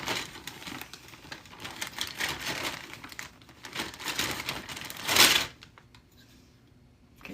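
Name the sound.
gold finger circuit cards being dumped into a box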